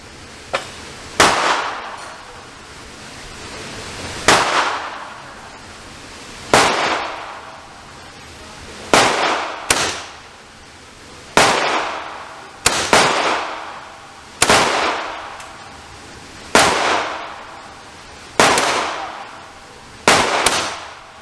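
B&W S45 .457 caliber big-bore airgun firing through a full magazine at an outdoor range, about eleven loud sharp reports spaced roughly two seconds apart, each decaying quickly, with no talking between shots.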